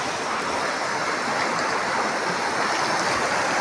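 River Kuja in Kenya flows steadily past, a dense, even rush of water heard close up and continuous, with no voices.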